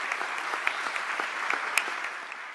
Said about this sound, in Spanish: Les pido un aplauso al alcalde.